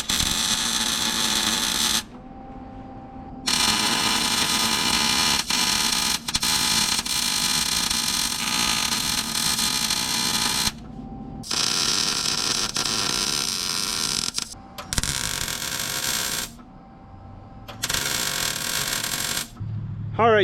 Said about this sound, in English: I have to weld that to this because this will pull through that.